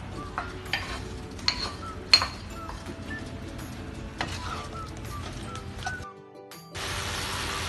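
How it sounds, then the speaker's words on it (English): Strawberries added to apples cooking in a pan: soft sizzling with scattered clinks and scrapes of stirring, a brief quiet gap, then a steady hiss at the end. "now in go the strawberries into the pan"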